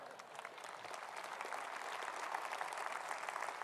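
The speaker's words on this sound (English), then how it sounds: "Thank you for that applause for these great men." A party conference audience applauds from a distance, and a continuous faint wash of clapping builds slightly and holds steady.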